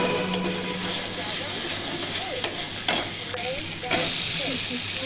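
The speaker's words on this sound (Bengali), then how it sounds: "আর তেলের মধ্যে টমেটো আধখানা মতন দিয়ে, তেজপাতা দিয়ে, হলুদ, জিরে গুঁড়ো, ধনে গুঁড়ো, নুন, সব মশলা, পেঁয়াজ বাটা, লঙ্কা বাটা, আদা বাটা দিয়ে কষিয়ে নেব।" Spices, half a tomato, bay leaf and onion, ginger and chilli pastes frying in oil, a steady soft sizzle with a few sharp clinks of a spoon against the pan, low and close.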